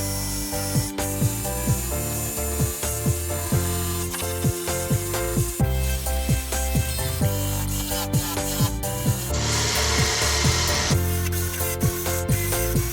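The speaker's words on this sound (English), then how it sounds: "let's get the wire brush and the drill out" Power drill spinning a wire wheel to strip rust from a car body, a grinding, scraping whir that runs in repeated short bursts with brief pauses and changes in pressure, close and fairly loud.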